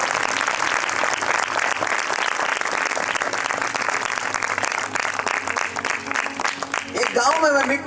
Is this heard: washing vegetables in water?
no